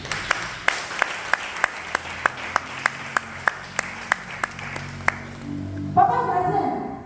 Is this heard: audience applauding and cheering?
yes